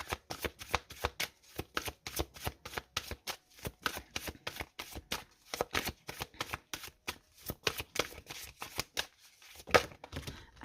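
Oracle cards are shuffled by hand in a steady run of crisp riffling bursts, close and fairly loud, with brief pauses between flurries and no talking.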